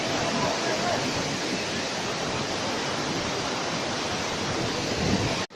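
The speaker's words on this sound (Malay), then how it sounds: "kami sedang berada di air terjun itu Bidadari. Itu air terjunnya" Bidadari waterfall in North Aceh gives a loud, continuous broadband roar of falling water. It stays steady throughout with no breaks.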